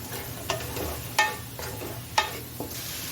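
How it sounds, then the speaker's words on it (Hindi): Spice masala with turmeric and black pepper frying in a pan for stovetop lasagna, a soft steady sizzle broken by a few sharp scrapes and clicks of a spoon stirring, close and fairly quiet. "इसको हमने अभी 2 से 3 मिनट इसकी भुनाई करनी है ताकि तमाम मसाला जब अच्छी तरह से वो भी भुन जाए"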